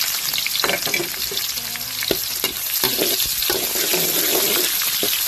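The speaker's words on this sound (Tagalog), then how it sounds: "Ngayon po, igisa po natin yung bawang. Tapos, sibuyas at luya." Garlic, onion and ginger sauté for squid adobo in a hot pan, a dense bright sizzle with quick stirring scrapes and taps, no talking.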